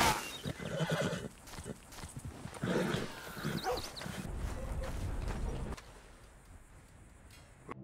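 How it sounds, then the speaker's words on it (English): In Red Dead Redemption 2, a horse neighs and whinnies up close while hooves clop and shuffle around it, loud at first and then fading to quieter ambience. "I'm taking Lenny's horse"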